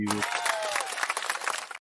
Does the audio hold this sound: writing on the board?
no